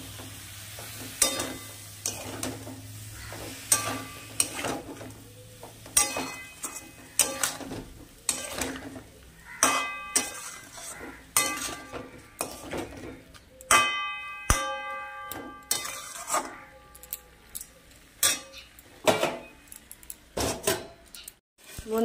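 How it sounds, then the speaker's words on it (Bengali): Spice paste mixed with water being stirred into a vegetarian jackfruit curry in a pot: a bubbling sizzle broken by frequent metallic clanks and scrapes of a ladle against the rim, in an irregular steady rhythm. "চলো এবার একটু নাড়িয়ে দিই ভালো করে।"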